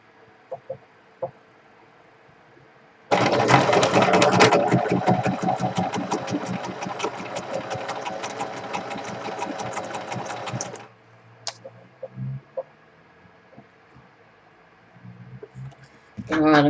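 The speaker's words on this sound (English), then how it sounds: "Let's just machine sew that once down, starting from there." A sewing machine stitches an envelope pocket, running in one steady, fast, loud rattling burst for about seven seconds before stopping, with a few quiet clicks and handling sounds around it.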